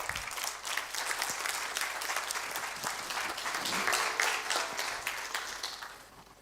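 A conference audience applauds in a steady wash of many hands clapping, swelling slightly and then tapering off toward the end.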